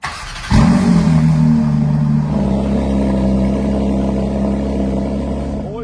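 A rebuilt, previously wrecked Ferrari 296 starts up close by, cranking briefly and catching with a sharp burst, then settling into a loud, steady idle.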